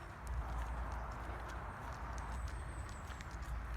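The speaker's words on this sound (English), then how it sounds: "There's nothing there, Lou, just the horses." Horses walking nearby, their hooves clip-clopping in a steady, uneven rhythm over a constant low outdoor rumble, with a faint high tone near the end and no talking.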